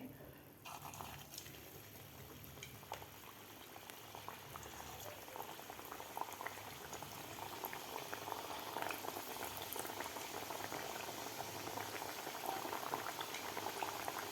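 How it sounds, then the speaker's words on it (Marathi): Matar kachori deep-frying in hot oil on medium heat, a steady dense bubbling and crackling sizzle that grows slightly louder throughout, close and continuous with no talk. "दुसरीसुद्धा बॅच आपल्याला अशा प्रकारे तळून घ्यायची आहे गोल्डन कलर होईपर्यंत"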